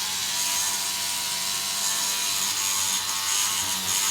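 A Rubbermaid power scrubber brush runs against grime, giving a continuous close whirring and rasping buzz with a gritty ratchet-like texture and steady loudness throughout.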